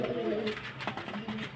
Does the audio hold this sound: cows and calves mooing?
no